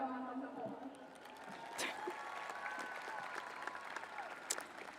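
Applause from the audience at a high school graduation ceremony, a faint, steady patter of clapping from a distant crowd, with a voice over a public address system and some cheering.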